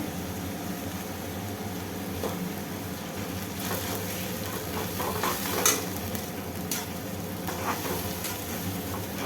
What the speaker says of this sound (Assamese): পিঁয়াজ আৰু বিলাহী, কেঁচা জলকীয়া, আদা এইখিনি অকণমান ভালদৰে ভাজি ল'ব লাগিব